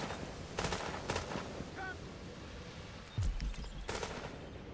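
Gunfire in The Division 2 played in the first game's event: several bursts of automatic fire and sharp shots, moderately loud, with a heavy thump partway through and brief pauses between volleys.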